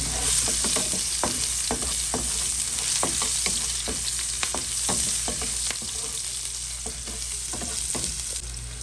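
Garlic sautés for bihon noodles in a loud, steady sizzle, while a spatula knocks and scrapes against the pan in an irregular rhythm.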